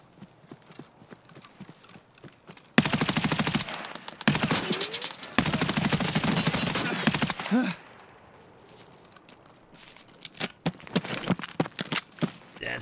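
Rapid gunfire bursts from an Escape From Tarkov firefight, loud dense volleys running for about five seconds with a short break, followed by quieter scattered shots and clatter.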